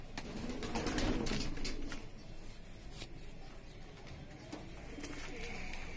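Soft, low cooing from a crossbred pigeon repeats in a steady murmur, fairly close, with faint rustling and background noise around it.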